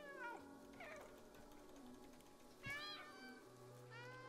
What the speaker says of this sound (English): Press left alt to meow.